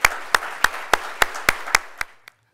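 A sparse conference luncheon audience claps for a keynote speaker, with about nine distinct, evenly spaced sharp claps from a few nearby hands that stop abruptly.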